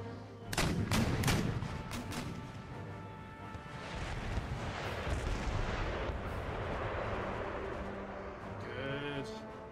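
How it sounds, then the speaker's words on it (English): Rocket artillery fires in an Empire: Total War battle at Venice: a quick cluster of sharp launches, then a long, loud, roaring rumble that fills the rest of the passage. "Rockets away, quick climb away."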